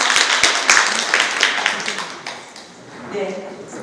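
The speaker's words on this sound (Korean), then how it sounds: "다시 한번 큰 박수로" An audience at an opening-ceremony lecture in Busan gives a dense, close round of applause welcoming a visiting professor. The clapping is strongest at first, thins out, and is followed by a speaking voice.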